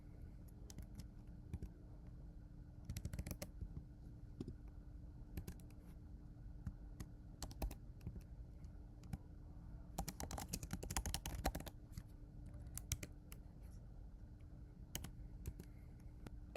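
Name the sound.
typing code on a computer keyboard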